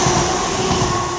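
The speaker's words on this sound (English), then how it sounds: "the next one to pass by is going to be Class 85, going from Glasgow Queen Street via Cumbernauld to Edinburgh Waverley" A Class 385 passenger train on the Glasgow Queen Street to Edinburgh Waverley run via Cumbernauld rumbles steadily through Polmont station in a brief, close, continuous roar.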